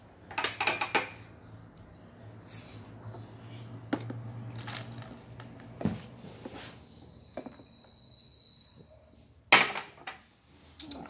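Chocolate being stirred in a Smoby Chef toy bowl, with scattered clinks and scrapes of a utensil against the bowl, some sharp and loud, with quiet gaps between.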